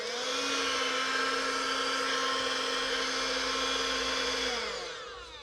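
Karcher WV6 Premium cordless window vacuum cleaner running, a steady high motor whine with layered tones, close and alone, winding down at the end.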